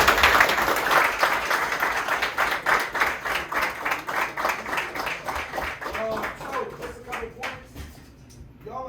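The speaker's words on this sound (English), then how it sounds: "clap it off for us" A group of people claps steadily and fairly close for several seconds, the applause thinning out toward the end, with faint voices mixed in beneath it.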